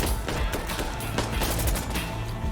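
Rapid automatic fire from an AKS-74U "Krinkov" carbine in Insurgency: Sandstorm, a loud, dense, unbroken burst of close shots with no speech.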